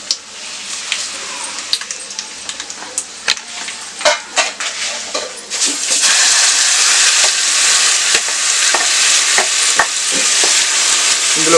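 Oil sizzles and crackles in a pan as a spice tempering for red chilli pickle is fried, while a spoon scrapes and stirs, with sharp clinks; the frying grows louder and steadier halfway through.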